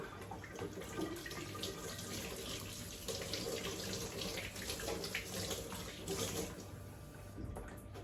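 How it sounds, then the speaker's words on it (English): Hands are washed under a running kitchen tap: a steady, close rush of water runs continuously, with a brief splash as the hands move through the stream. "I'm going to wash my hands"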